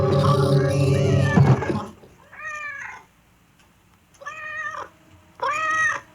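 A cat meows in a 1981 Halloween radio drama, three separate drawn-out meows after a burst of loud, dense sound, each clear and close, with quiet gaps between them.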